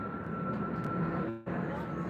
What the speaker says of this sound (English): Here you go, another Dreamliner, Qatar Airways.